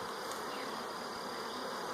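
Honey bees buzz in a dense, continuous drone around a wooden nuc box, steady and close with no voices.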